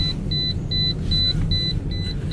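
A car's seatbelt warning beeper sounds on a road trip: six evenly spaced, high, steady beeps repeat over the low rumble of the moving car.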